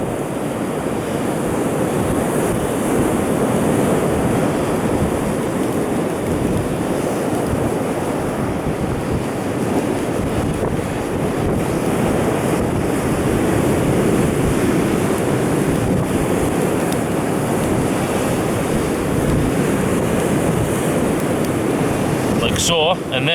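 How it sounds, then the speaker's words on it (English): Strong wind roars across the microphone over crashing surf in rough weather at Saltom Bay, a loud constant blustery rush, with a voice speaking beneath it. "it's a bit windy today"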